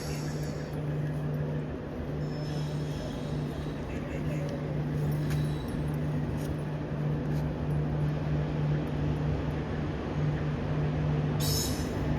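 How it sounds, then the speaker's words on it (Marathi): The Mandovi Express rumbles steadily into a station toward Mumbai with a low continuous roar and a droning hum, a faint squeal rising near the end. "चला चला ट्रेन आली आहे मांडवी एक्सप्रेस"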